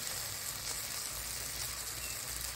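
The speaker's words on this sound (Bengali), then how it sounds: "টমেটো কুচিটা দিলাম, দিয়ে ভালো করে ভেজে নিচ্ছি মশলার সঙ্গে একসঙ্গে।" Chopped tomato frying with spices in a pan, a steady, even sizzling hiss throughout with no distinct pops, fairly close and without talk.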